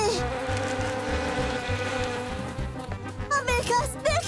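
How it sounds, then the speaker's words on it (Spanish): A swarm of cartoon bees buzzes steadily in an animated children's show, a dense droning hum that holds throughout, with a character's voice breaking in near the end. "¡Abejas! ¡Déjenme en paz!"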